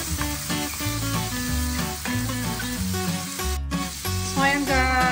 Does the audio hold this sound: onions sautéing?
yes